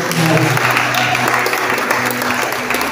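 A congregation applauds loudly and continuously at a church gathering, a dense, close wash of clapping lasting about three seconds.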